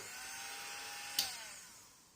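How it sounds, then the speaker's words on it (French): A small rotary engraving pen whirs with a thin, high, steady whine like a tiny drill, very quiet and close, with a sharp click partway through before the tone eases slightly. "Mon petit stylet qui fonctionne comme une petite perceuse"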